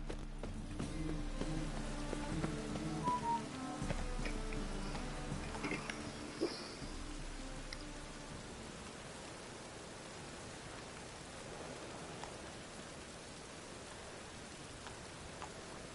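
Steady hiss of synthetic rain in The Witcher 3 fills the whole stretch, an even wash of noise with faint scattered tones and no speech.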